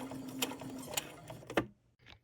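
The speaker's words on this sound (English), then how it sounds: "Sewing along a line like that just helps you get a feel for your machine" A domestic sewing machine running a straight stitch along a marked line, short mechanical bursts of needle clatter heard up close, ending in a brief stop.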